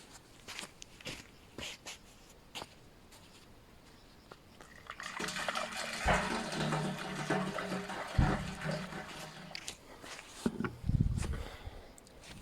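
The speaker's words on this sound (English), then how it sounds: "Filled up with water, carbide on top." Water pours into a 200-liter drum loaded with carbide, a steady rushing splash that builds after a quiet start, with scattered knocks and thumps near the end.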